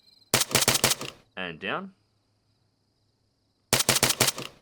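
Two bursts of rapid automatic rifle fire in the combat game Arma III, each a quick string of sharp, loud shots, separated by a short spoken phrase and a stretch of near silence.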